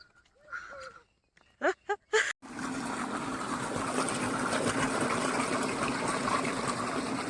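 Steady rushing water pours continuously into a farm tank after a few brief knocks and bird calls, a broad splashing flow, close and fairly loud.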